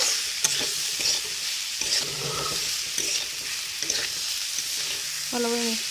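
Areca palm eggs stirred with onion and spices in a frying pan, a constant sizzle under repeated scraping strokes of a spatula, with a short squeak near the end.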